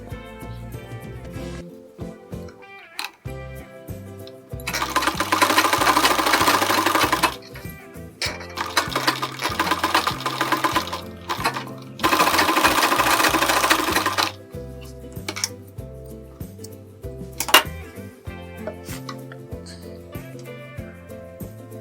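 A sewing machine stitches a garment sleeve in three loud, steady bursts of rapid whirring, separated by pauses with light clicks and handling noises.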